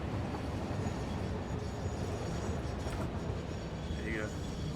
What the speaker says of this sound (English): The train's coming in.